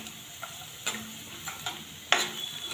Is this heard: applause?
no